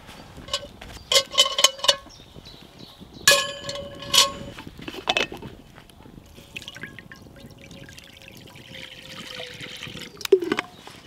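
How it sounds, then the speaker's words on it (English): Water pours into a cast iron Dutch oven in a kitchen, with splashes and trickles in several short bursts and drips, close by, then a steady, quieter running trickle with a final splash near the end. "So I've just simply poured some water into my Dutch oven."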